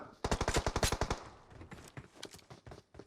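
Rapid automatic gunfire in PUBG Mobile, a fast burst of about a dozen sharp cracks followed by scattered quieter shots further off, fairly faint overall.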